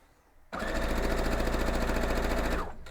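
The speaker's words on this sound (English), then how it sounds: "I'm going to go ahead and sew it together" A sewing machine stitches quilt block pieces together, starting abruptly into a loud, steady, fast mechanical whir for about two seconds before stopping, close and alone.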